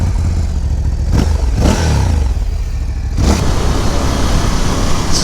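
A 2022 Ducati Scrambler 1100 motorcycle being ridden, its engine droning loudly and steadily with a few brief throttle rises and wind rush, recorded close to the rider.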